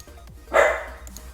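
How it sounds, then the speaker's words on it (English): A single short dog bark sounds indoors at moderate distance, one sharp woof followed by quiet room noise. "Sorry for my dog being annoying."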